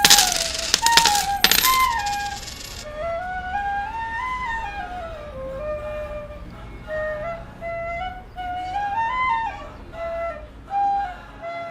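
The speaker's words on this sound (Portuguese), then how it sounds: "Depositou 3 moedas e uma cambuca de palha e ouviu." Three coins dropped into a straw bowl give a short cluster of bright metallic clinks at the start, close and loud, followed by a bamboo flute melody that carries on alone.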